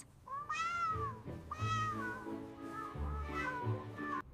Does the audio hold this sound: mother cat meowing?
yes